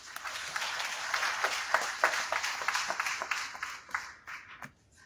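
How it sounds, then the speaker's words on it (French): At the opening ceremony of a conference in Benin, the audience applauds moderately, a steady patter of clapping that thins out and stops near the end. "je vous propose le mot de bienvenue, c'est celui de Père Yaobi Souédé, aumônier national des cadres et personnalités politiques, bien sûr avec des applaudissements"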